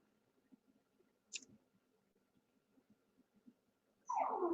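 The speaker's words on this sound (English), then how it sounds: "My dog wants out." Faint soft whimpers from a dog wanting to go outside, a high squeak partway through, then a louder nearby yelp-like whine at the end.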